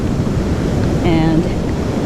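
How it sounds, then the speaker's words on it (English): Ocean waves pounding a sandy shore: a loud, continuous wash of surf and wind rumble, with a brief tonal whine in the middle and a voice speaking faintly over it. "hearing the waves pound outside your tent"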